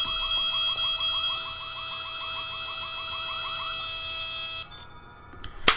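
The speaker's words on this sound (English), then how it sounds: "The fire alarm is ringing." In the horror video game White Day, a school fire alarm rings in a rapid warbling electronic pattern over a steady tone, then cuts out near the end, leaving a faint hum and a final click.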